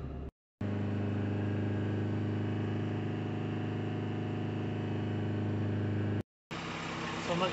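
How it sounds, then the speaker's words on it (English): A Ford Transit MK8 van idles with a steady, even engine hum that runs almost unchanged, broken by two brief silent gaps. "I'm going to start the vehicle and see if we're getting any smoke coming out of the exhaust"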